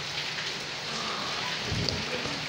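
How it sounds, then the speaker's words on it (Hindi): Steady monsoon rain pours onto houses and the ground beside them, a dense, even hiss throughout with soft patters and no voices. "बारिश आप देख रहे हैं"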